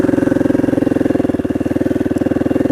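A motorcycle engine runs steadily on a canyon trail ride, a loud, close, rapid pulsing drone with an even rhythm that holds for the whole stretch and no voices.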